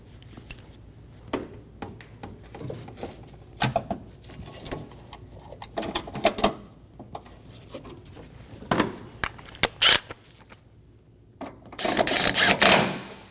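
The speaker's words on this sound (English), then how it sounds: "Install the bolts" Bolts are driven in on a coolant reservoir of a 2008-2015 Scion xB 2.4L L4 engine bay, a scattered series of sharp metallic clicks, ratchet taps and tool clatter, close and intermittent against quiet pauses.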